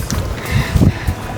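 Low, buffeting sea wind rumbles against the microphone in short gusts, loud and close, with no voices, on the coast at Alaminos, Pangasinan.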